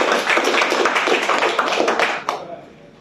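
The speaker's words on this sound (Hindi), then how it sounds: "तो आप सबके लिए जोरदार तालियां।" Applause from an audience at an office meeting in Dubai: dense, steady clapping that carries on for over two seconds, then thins out and fades.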